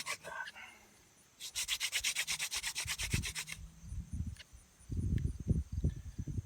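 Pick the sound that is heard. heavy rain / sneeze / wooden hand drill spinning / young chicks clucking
wooden hand drill spinning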